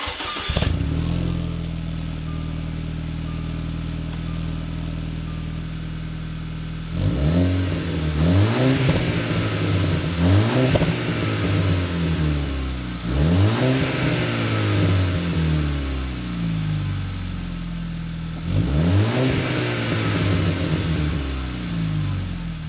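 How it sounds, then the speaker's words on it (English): A 2009-2016 Audi A4 fitted with an S-Type cat-back exhaust fires up from a cold start, then settles into a steady idle broken by several throaty revs that rise and fall, close and clear with no talking. "So let's see what this thing sounds like, shall we? Here's a cold start."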